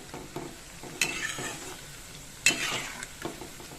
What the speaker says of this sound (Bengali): আমি এটা আস্তে আস্তে ভাজছি